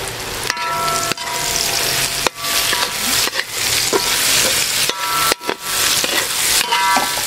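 Onion frying in a hot pan with chopped ginger and green chilli, a loud steady sizzle broken by scraping stirs and brief pauses, close and with no talk.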